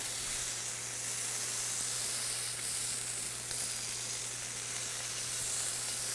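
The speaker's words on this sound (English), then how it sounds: "let's cook it a little bit more" Beef grilling for yakiniku sizzles in a steady, close, continuous hiss with a low hum beneath, unbroken and without talk.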